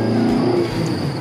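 A 2004 Suzuki Liana with a high-revving Japanese 1.6-litre 105 hp engine running on LPG during a test drive, a steady, close engine drone heard from inside the car with no talk.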